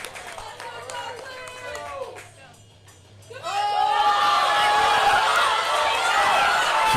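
A crowd at a powerlifting meet shouts encouragement for a woman during a 401 attempt, with scattered yells that briefly dip, then surge into loud sustained cheering and whistles.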